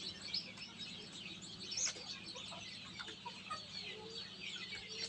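Newly hatched chicks in an egg incubator peep continuously in high, thin chirps over a steady low mechanical hum, with a few louder calls standing out.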